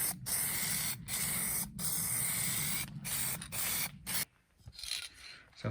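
An aerosol can sprays black primer onto a grimdark terrain train model in a run of close, loud hissing bursts separated by brief pauses, with a last short spurt after a quieter gap.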